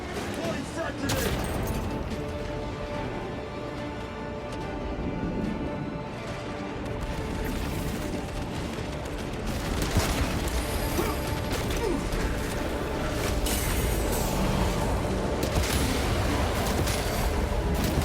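Frag grenade blast amid gunfire in Warhammer 40,000: Space Marine 2, a loud, dense wall of battle noise with repeated sharp impacts, mechanical clatter and crashes running throughout, with voices heard over the chaos.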